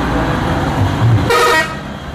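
Indonesian bus telolet horn sounding a loud, melodic multi-tone toot for about a third of a second, rising out of steady road and engine rumble and then cutting off.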